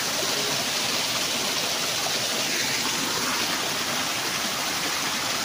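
Water runs steadily through a bamboo gutter in the mountains, a continuous rushing, gurgling flow at close range with no voices, even in level throughout.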